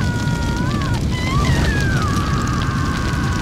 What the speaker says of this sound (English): It is on fire.